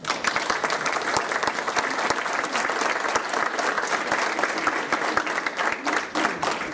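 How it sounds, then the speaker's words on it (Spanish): An audience at an academic lecture on politics and violence gives a strong round of applause, loud, thick clapping from many hands that continues steadily for almost seven seconds. "a cargo del doctor José Woldenberg, para quien les pido un fuerte aplauso."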